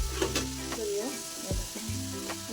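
Food sizzling and frying in a pan on a gas stove, stirred with scraping clinks of a utensil, loud and close with continuous hiss.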